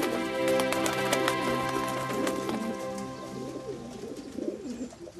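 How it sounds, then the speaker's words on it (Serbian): Pigeons coo in a flock, with repeated soft throaty calls overlapping and close by, against a light background patter. "Golubovi!"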